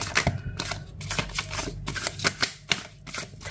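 Tarot cards being shuffled by hand, a steady run of soft riffling flicks and taps, close and clear with no talking.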